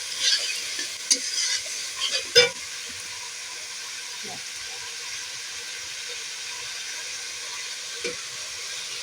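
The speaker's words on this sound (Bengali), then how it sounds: "এইটা আমি পেঁয়াজের সাথে দিয়ে নেড়ে নেবো মশলা একটু ভালো করে ভেজে নেব মশলাটা" Onion and spices fry in a pan and are stirred, giving a soft, steady sizzle broken by a few scraping stirs near the start.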